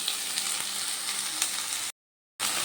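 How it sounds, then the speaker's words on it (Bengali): Eggplant pieces and drumstick flowers fry in a pan with oil and a little turmeric, a dense, close sizzle with soft stirring that cuts out briefly before resuming. "এবার বেগুন আর সজনে ফুল ভালো করে ভাজা ভাজা করে নেব।"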